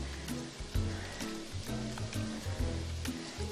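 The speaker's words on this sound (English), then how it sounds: "You hear those onions sizzle in the background?" Onions sizzle in a pan for homemade lasagna, a soft continuous crackle with scattered pops, fairly faint and steady, while low knocks and kitchen handling sounds mix in nearby.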